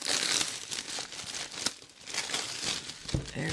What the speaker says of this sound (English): Pardon the crinkle and the peeling back of the plastic here.